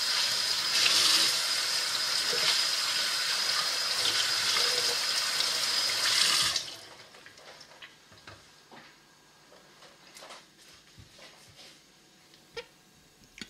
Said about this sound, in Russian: первичный фильтр Cerax нужно промыть в проточной воде